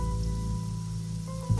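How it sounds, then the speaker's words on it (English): Steady rain falls through a Wuthering Waves game scene, a soft continuous hiss with a low rumble beneath, alone and without talk, with a brief thud near the end. "Rain's back."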